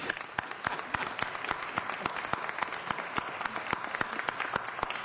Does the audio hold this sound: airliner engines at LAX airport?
no